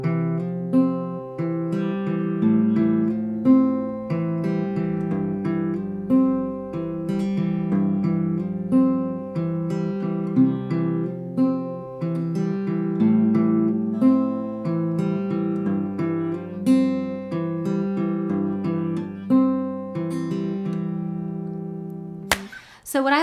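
Acoustic guitar plays a fingerpicked pattern with hammer-ons, a steady run of plucked notes over sustained bass strings, close and clear with no voice, ending in a brief sliding squeak.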